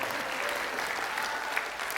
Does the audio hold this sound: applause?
yes